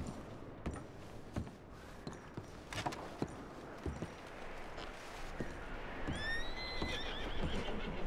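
A horse whinnies loudly with a rising, wavering call, amid the clip-clop of hooves and scattered thumps against a steady outdoor background.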